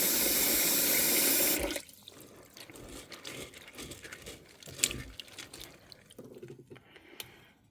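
Tap water runs hard into a sink over black-eyed peas being rinsed, a loud steady rush for about a second and a half before it shuts off, leaving soft clatters and small splashes of the wet peas being handled.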